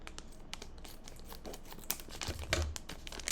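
Plastic packaging on a subscription beauty box is cut open and crinkled, giving close, crackling rustles and sharp snips that build to a louder crunch near the end.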